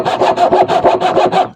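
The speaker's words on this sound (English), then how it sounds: "So let's see if I can get the saw in and start sawing these." A hand saw cuts through wooden planks for a small vegetable garden bed, about nine steady back-and-forth strokes in a regular rhythm, loud and close, with no talking.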